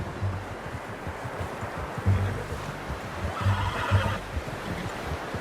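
A horse whinnies and neighs a few times in Red Dead Redemption 2, its calls coming in short bursts over steady outdoor ambience and low rumbling.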